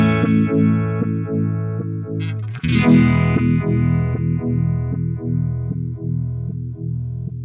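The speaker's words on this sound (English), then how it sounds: "So with the Goodvibes you get that quite aggressive stuttering" An Electro-Harmonix Goodvibes guitar pedal at full depth throbs with aggressive, rhythmic stuttering pulses over sustained guitar chords, with a sharp strum midway; loud and alone.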